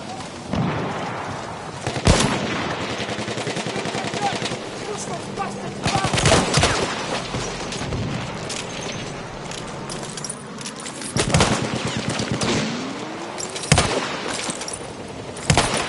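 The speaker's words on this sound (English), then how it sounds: "Spot the machine gun!" Rapid bursts of machine gun fire and scattered gunshots crackle through a video game battle, with loud volleys around the middle and later stretches over constant combat noise and occasional shouted voices.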